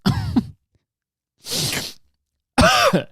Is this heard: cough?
yes